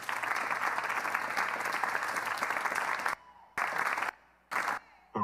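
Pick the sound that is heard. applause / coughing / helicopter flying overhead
applause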